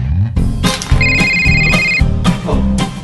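Telephone bell ringing indoors at home, a loud close electronic ring repeating in bursts of about a second with short gaps, heard alone without talk.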